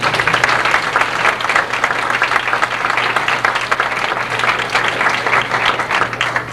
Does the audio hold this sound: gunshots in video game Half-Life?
no